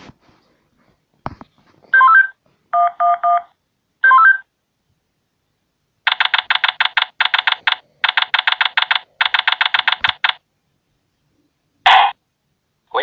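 Phone keypad tones sound in a video game: short groups of beeps at first, then long rapid runs of electronic blips in quick bursts, with a final squelch after a pause.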